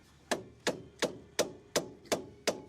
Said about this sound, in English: Hammer that thing.